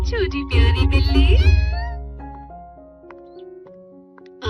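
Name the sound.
cartoon cat meowing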